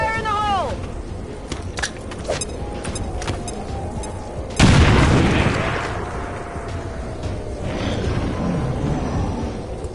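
A grenade detonates in the video game XCOM 2. One loud, heavy blast bursts midway and decays into a long rumbling tail over a steady bed of game music and ambience.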